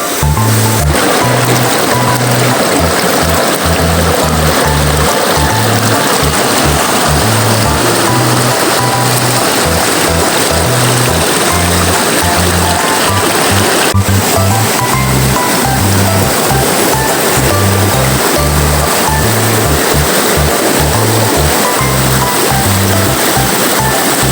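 Water rushes and splashes steadily throughout, loud and close, like a stream flowing over rocks, with a low rhythmic thumping running underneath; a cold stream where people bathe outdoors.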